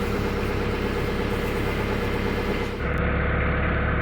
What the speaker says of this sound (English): The tractor's a diesel, so I let it idle while I'm getting everything else ready to warm up well.